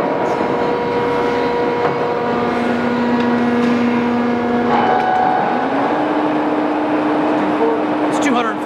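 A Giddings & Lewis horizontal boring mill runs with a steady mechanical hum and held tones whose pitch shifts a few times, with faint speech under the machine.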